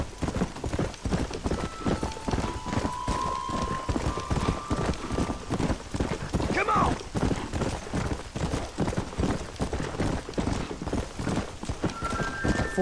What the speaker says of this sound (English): I don't like these windy roads on horses.